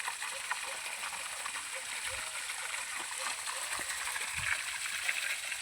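Irrigation water flows and splashes across a farm field of fodder and millet crops. It makes a faint, continuous rushing stream heard from a distance.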